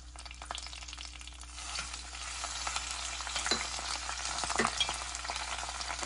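Cashews and raisins sizzle steadily in hot ghee in a pan for banana dates payasam, with light stirring scrapes and crackles throughout and no voices.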